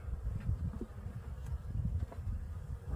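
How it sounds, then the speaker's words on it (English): Honey bees crawl over an empty hive frame, a faint, close, irregular buzzing and humming that flutters up and down for a few seconds. "Just bees crawling around, empty frame"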